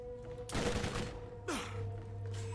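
Gunfire in a video game comes in two loud bursts, first a rapid fusillade and then a shorter volley, over a steady low game hum with no talking.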